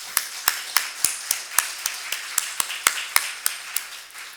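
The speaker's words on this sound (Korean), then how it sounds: "우리 찬양대하고 성가대 뜨거운 박수 한번 드리겠습니다." A church congregation claps for the choir during a Sunday service: a steady, evenly spaced beat of claps in unison, fairly soft and somewhat distant, repeating about three times per second without talk.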